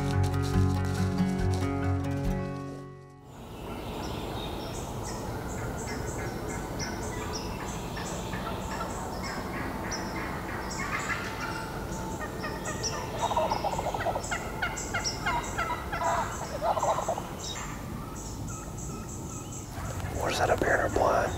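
Wild turkeys gobbling during a fall hunt, heard from a blind with birds all around: repeated rapid gobbles and clucks at varying distances, some close and loud, others fainter, scattered through the whole stretch, with soft whispering in places.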